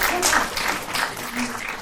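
An audience clapping along in a dense, steady patter under a comedy performer on stage, mimicking applause done with shoes; short burst with voices faintly mixed in.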